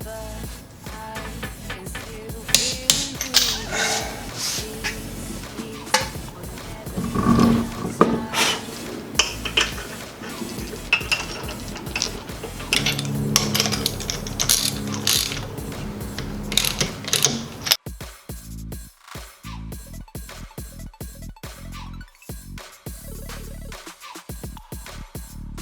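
A wrench ratchets and clicks while lug nuts on a refitted wheel of a turbo BMW E30 are torqued after a coilover install, bursts of metallic clatter and pawl ticks running close and steady, then thinning to sparse clicks near the end.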